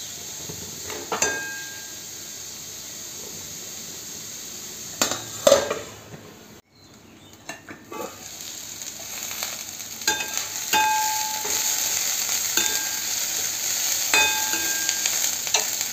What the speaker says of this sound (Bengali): পেঁয়াজটা বেশ কিছুটা ভাজা হওয়ার জন্য এবার এটাকে একটু ঢেকে দেব